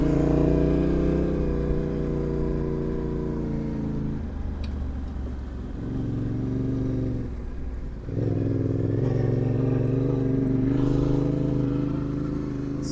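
Yamaha Tenere 700 adventure motorcycle climbing a rocky trail, its engine droning loud and steady with dips and surges as the throttle shifts, plus faint clatter from the rocks.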